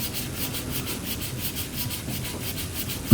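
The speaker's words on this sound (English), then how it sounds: "I'm gonna sand, get it nice and smooth there." Steady rhythmic rubbing of sandpaper across a wooden baseboard, repeated back-and-forth strokes at close range, with no voices.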